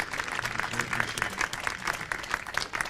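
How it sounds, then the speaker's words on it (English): A small gathering applauds at the close of a third-place baseball game, steady scattered clapping continuing near and moderately loud, with a faint low murmur underneath. "Give them one more round of applause."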